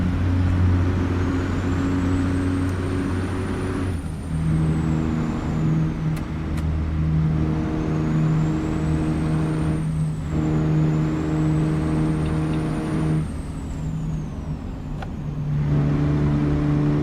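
Truck engine droning steadily while driving, a loud, close, continuous low rumble with a whining tone that rises and falls across gear changes and brief dips, no talking.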